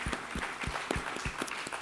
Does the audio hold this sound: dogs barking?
no